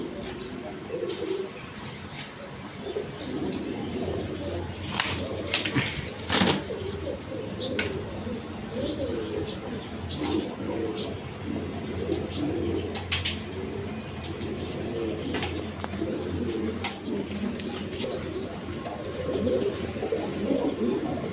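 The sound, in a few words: red Gorra pigeons cooing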